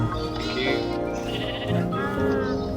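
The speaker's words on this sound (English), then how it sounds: "Can I grow up this baby sheep?" A baby sheep in Minecraft bleats in a steady run of wavering, nasal cries, close and clear, with only a little talk underneath.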